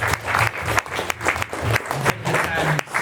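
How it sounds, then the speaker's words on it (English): A packed indoor crowd breaks into a sustained round of clapping, dense and close, with a few voices and cheers rising through the applause. "Round of applause for yourself as well."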